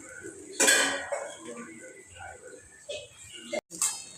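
A pressure cooker is washed at a kitchen sink, giving a loud metallic clank near the start followed by scattered clinks and clatter of the pot, with a brief sharp knock near the end.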